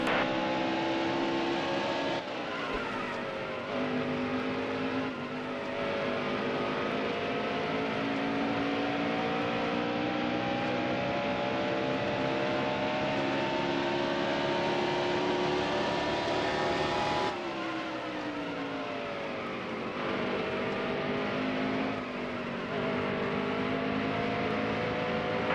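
A NASCAR race car engine from the NASCAR Heat Evolution video game drones in a loud, steady high whine throughout, with pitch climbing and dropping at gear shifts, no talking over it.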